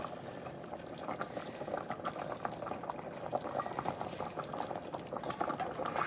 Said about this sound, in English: we're going to bring this up to a boil